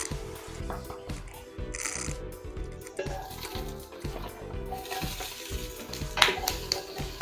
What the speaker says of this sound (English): In the same casserole, we're gonna fry quick some of the ingredients.